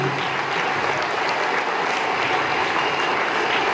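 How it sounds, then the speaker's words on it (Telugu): A crowd at a Siddipet district event applauds loudly and continuously, a dense, even wash of clapping from many hands with no speech over it. "ఒక్కసారి గట్టిగా చప్పట్లు కొట్టి కృతజ్ఞతలు తెలియజేయండి"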